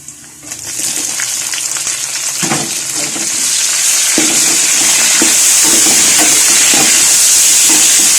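Chopped tomatoes and green chillies frying in hot oil with bay leaf, cinnamon, black pepper and cloves, a loud close hissing sizzle that swells and holds steady, with a few soft stirring knocks underneath.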